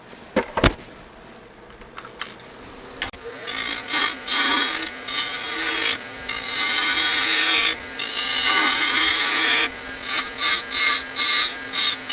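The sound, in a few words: spindle gouge shaping wood on a lathe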